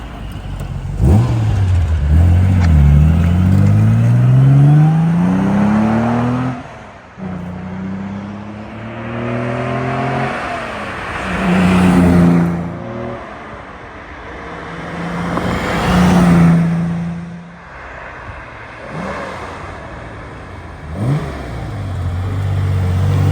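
A 1967 Aston Martin DB6 Vantage with a 4.7-liter engine makes repeated flybys, loud revving passes rising and falling in pitch, with brief dips between runs and no talk.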